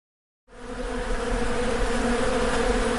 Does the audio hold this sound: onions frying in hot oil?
no